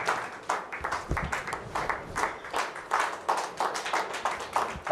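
Audience clapping in a hall at a book release and felicitation ceremony, a dense, steady round of applause from many hands that carries on without pause for the whole span, with no voices over it.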